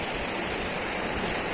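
Water rushes and babbles steadily at Lakhaniya Dari waterfall in Mirzapur, a dense, continuous roar of flowing water close by with no breaks or voices.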